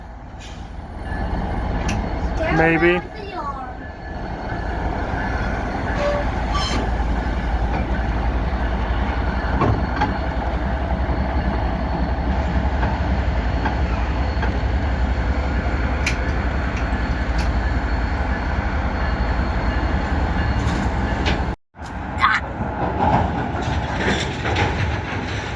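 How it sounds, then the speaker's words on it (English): A northbound freight train leaving a Wisconsin yard rumbles past continuously, with steady wheel clatter and rail noise at close range; a brief voice and a short dip break in near the end. "there goes the train we've been unintentionally chasing northbound out of the yard"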